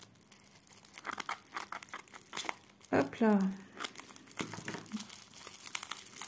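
Plastic bubble wrap packaging is handled and pulled open near the microphone, with crinkling, rustling and a louder tearing, crackling burst partway through, while someone speaks briefly.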